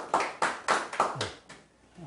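An audience at a conference applauds a presenter with several rounds of hand claps that rise and fade over a couple of seconds, fairly soft and slightly distant.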